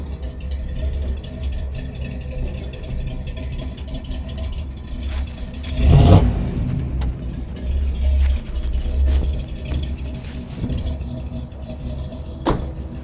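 A restored 1946 Chevy 3100 pickup with a 350 V8 and dual exhaust runs near the microphone. A low, steady rumble swells into a brief rev around the middle, then settles back to a throaty idle.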